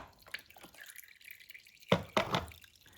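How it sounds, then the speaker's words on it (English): Engine oil drips and trickles out of a loosened filter housing during an oil change, with a few distinct close drops and splashes over a quiet background. "Looks like we've already got around, a bit hard to see, just on 3 litres of oil dripping out"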